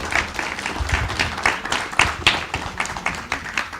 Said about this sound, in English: And now the audience can give applause if they are so inclined.